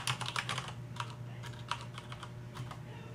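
Quick bursts of typing on a computer keyboard, close and fairly quiet, with irregular clusters of key clicks and short gaps between them, over a faint low hum.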